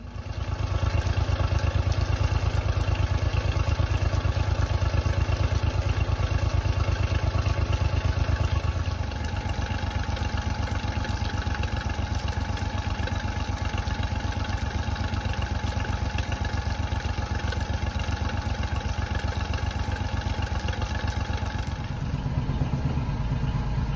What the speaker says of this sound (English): Once the engine has warmed up for a couple of minutes, I close the fast idle lever and then the engine revs at idle.